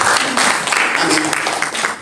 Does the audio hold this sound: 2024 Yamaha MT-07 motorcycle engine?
no